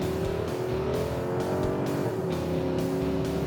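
A 2020 Nissan Patrol V8 revs up and accelerates hard onto a 100 km/h road, its deep roar climbing steadily in pitch, loud and close, with no one speaking.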